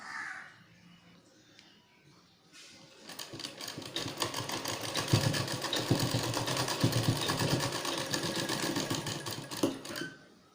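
After a quiet start, a sewing machine stitches a cotton cloth face mask with elastic, its needle chattering in a fast, even rhythm for about seven seconds up close before stopping.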